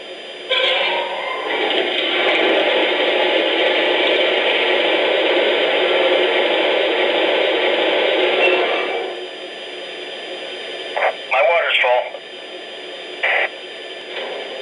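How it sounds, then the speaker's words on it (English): A Lionel O-scale 3-rail Heisler model locomotive's sound system plays water filling the tender: a steady, loud rushing hiss for about eight seconds, followed by a few short clicks and clunks. "Here's the sound of water being added to the tender."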